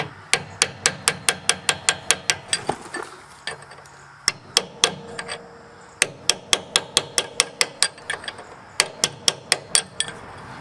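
A hammer strikes a punch to knock a part out of a Universal Bren Gun Carrier rear drive hub: rapid runs of sharp, close metallic blows in quick rhythmic bursts, with brief pauses between series.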